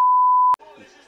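A steady, loud, pure censor bleep runs for about half a second over swearing during football commentary, cutting off abruptly into faint indistinct talk.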